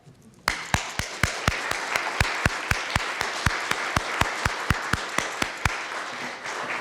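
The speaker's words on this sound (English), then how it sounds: "Let's applaud each other." Crowd applause at a grand opening event, a broad wash of clapping from many people starting abruptly and sustained, with sharp rhythmic claps punctuating it at a regular beat.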